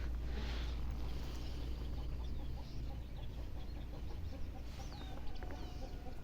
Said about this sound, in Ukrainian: Десь курка кричить.